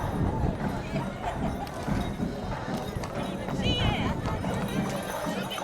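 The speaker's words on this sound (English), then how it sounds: "But we have the 4-H horses and the Kaufman family horses" 4-H horses pass in a town Christmas parade, hooves clopping irregularly on pavement amid crowd noise, with a person talking throughout.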